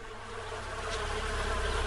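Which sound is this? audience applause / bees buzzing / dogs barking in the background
bees buzzing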